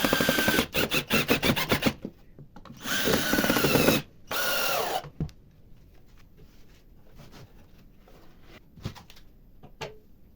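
Power drill screwing a metal funnel onto a handmade wooden funnel for a sandblasting cabinet: several short close bursts of whirring and grinding in the first five seconds, then quieter handling knocks and scrapes.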